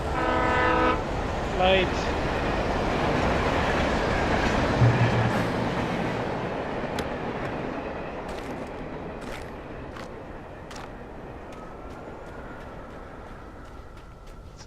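A train rushes past in the game Alan Wake with a loud rumble and horn blasts, the roar fading steadily as it moves away, leaving scattered clicks; a brief word is spoken.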